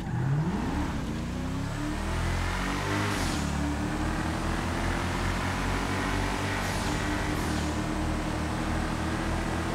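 An armored Enus Paragon R sports car drives in a game, its engine droning loud and steady with rising and falling revs and gear shifts, no voices over it.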